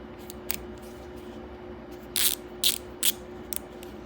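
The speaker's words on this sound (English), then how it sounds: "Ratcheting mechanism is pretty nice." A ratcheting screwdriver clicks through its mechanism in a few short sharp bursts, close and crisp over a quiet background hum.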